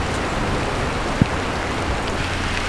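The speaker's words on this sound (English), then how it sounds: "It's like 50, 45 degrees and raining." Steady rain falls outdoors on a cold day of around 45 to 50 degrees near water where someone is fishing, a continuous broadband hiss with a single soft thud partway through.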